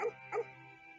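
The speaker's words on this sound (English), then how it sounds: "It sounded like dogs barking." Two quick, faint dog barks sound in the Fate/Grand Order video game, about a third of a second apart, with a low hum lingering after them.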